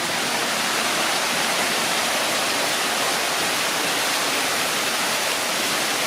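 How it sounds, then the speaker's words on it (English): A steady, full rush of flowing creek water running through the middle of a large indoor store, continuous and fairly close, with no voices over it. "So middle of the store, and you've got a creek."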